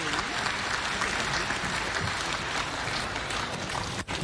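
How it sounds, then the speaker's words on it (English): A crowd at a memorial gathering for a general applauds in a loud, sustained, even burst that cuts off abruptly near the end, with no talk over it. "One more round of applause for her, please."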